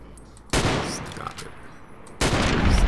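Gunfire in the modded Fallout New Vegas video game: two loud, sudden bursts of shots, one short and one running to the end, with quieter game ambience between them.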